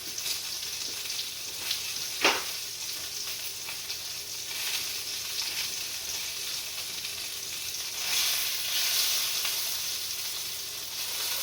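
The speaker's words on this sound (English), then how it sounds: "See if these ones will sizzle." Sausages sizzling steadily in a frying pan, a continuous crackling hiss with one louder pop early and a swell of sizzle later.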